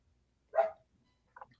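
A dog in the background gives one short, faint bark, followed a moment later by a weaker, clipped yip, against an otherwise quiet room.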